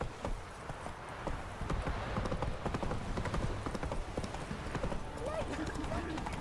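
Roach, the horse in The Witcher 3, trots with a steady, close clip-clop of hooves that runs right through, under a man's speech and ambient game noise.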